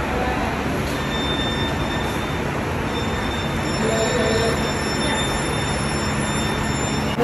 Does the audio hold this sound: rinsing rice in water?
no